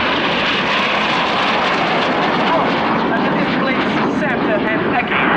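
An MB-339 jet flying inverted aerobatics while trailing white smoke at an airshow gives a loud, continuous engine roar and rushing whoosh that stays steady and close throughout.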